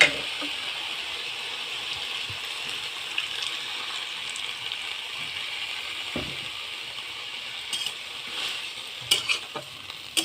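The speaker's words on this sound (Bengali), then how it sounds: "এবার আমি জল দিয়ে দেব।" Water poured into a sizzling curry of small fish and pepul greens, a steady close hiss of frying with occasional spoon scrapes and clinks toward the end, no voices.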